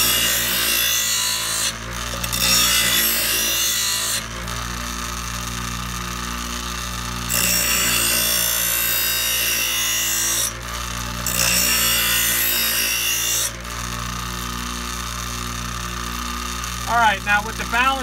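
A bench grinder sharpens a lawnmower blade, giving loud, close grinding bursts in several passes with short gaps between them over a steady motor hum, and a voice speaks near the end.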